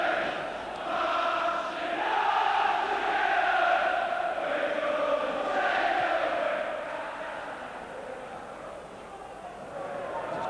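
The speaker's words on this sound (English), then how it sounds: "the crowd getting behind them" Leeds v Rangers football crowd in a stadium, a broad sustained roar of cheering that swells and eases while a commentator talks over it.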